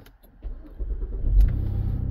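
A 2010 Cadillac SRX engine cranks briefly and then catches, settling into a steady, close idle rumble after immobilizer reprogramming. No one speaks.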